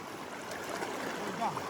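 Clear river running through forest, a steady soft wash of flowing water close by, continuous and even for the whole stretch.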